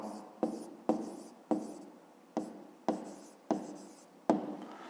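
A pen scratches out a maths answer by hand on paper, with short, quiet strokes repeating in a steady rhythm, close and alone in a silent room.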